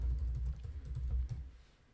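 Code for a Microsoft Access VBA procedure being typed on a computer keyboard: quick, quiet clicking keystrokes close by, fading toward the end, with no talk.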